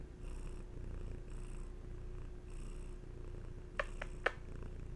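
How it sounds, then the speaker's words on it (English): A female cat purrs close up in a steady, continuous low rumble, with a few soft clicks near the end and no voices. "Yeah, you got them purrs."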